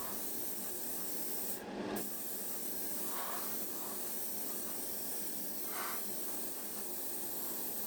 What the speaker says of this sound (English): using long strokes, a thin layer of primer is applied to the hull